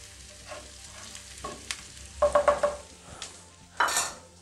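Tomato paste stirred into sizzling gyros meat in a Dutch oven: soft frying hiss beneath a few scraping stirs and clinks of a utensil against the pot, with louder bursts near the end.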